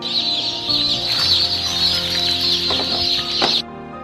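Several chickens cluck and squawk steadily and fairly close, with a bright, busy chorus of calls throughout; likely hens kept in closed cages, cutting off abruptly near the end.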